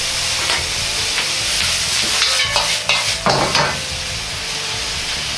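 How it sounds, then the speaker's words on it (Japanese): Boiled broccoli and komatsuna are lightly stir-fried for a Chinese-style vegetable dish, producing a loud, steady sizzle with bursts of tossing and spatula scrapes against the pan in the middle, no voices. "茹でた野菜を軽く炒めます。"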